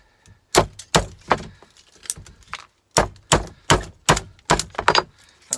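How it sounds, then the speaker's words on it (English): Plastic ends are knocked off scrap copper with a tool, making a run of sharp, irregular thunks and cracks, loud and close, spaced unevenly with short pauses. "That's just knocking the plastic ends off."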